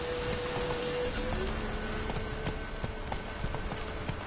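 Horse hooves clip-clop in a steady walking rhythm in the video game The Witcher 3: Wild Hunt, with faint ambient game sound underneath.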